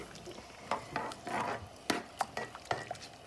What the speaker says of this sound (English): So now I'm just gonna stir this up a little